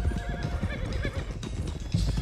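Horses trotting in Red Dead Redemption 2 as several animals are driven along a road, with steady clip-clop hoofbeats and repeated whinnies and neighs close by throughout.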